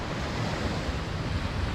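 Sea waves washing on a beach in summer, a steady, dense roar of surf with wind noise across the microphone and no break in the sound.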